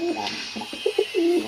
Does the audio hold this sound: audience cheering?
no